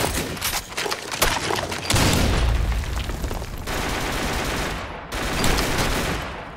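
In a team shooter match, a grenade blast booms amid dense rapid gunfire and automatic bursts, loud and chaotic, with a sharp crack near the end.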